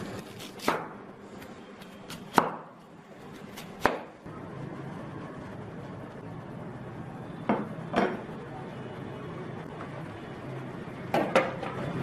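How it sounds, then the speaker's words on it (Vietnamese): Sharp, sparse knife strikes on a cutting board as an onion is cut into wedges for a home-style chicken curry, about eight close, distinct chops spread irregularly over a quiet kitchen background. "hành tây thì chúng ta sẽ cắt múi cau."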